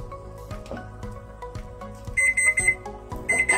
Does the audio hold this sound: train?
no